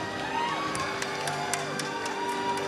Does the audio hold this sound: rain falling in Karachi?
no